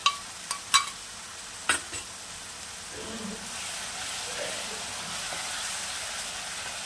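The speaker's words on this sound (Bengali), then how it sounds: "দিয়ে দিলাম ওই 4টে সিদ্ধ পেঁয়াজ বাটা" Boiled onion paste dropped into a hot pan, opening with a few sharp clinks of a utensil, then a soft steady sizzle over high flame, close by.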